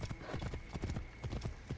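Horse hooves clip-clop in steady rhythm across ground in the video game Assassin's Creed Origins, loud and close, with a brief whinny-like tone mixed in and no talk over it.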